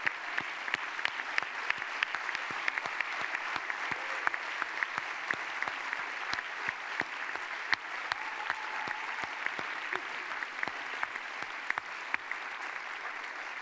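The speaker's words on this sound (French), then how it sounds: "Vous pouvez les applaudir." An audience claps steadily for the panelists at an evening debate on food democracy. Dense, even clapping with sharp individual hand claps runs throughout at moderate volume and never drops off.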